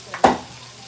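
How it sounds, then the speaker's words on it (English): Chicken pieces frying in hot oil for crispy fried chicken, a short sizzling burst with a brief stirring scrape, fairly close, then a low steady hiss. "It's still frying."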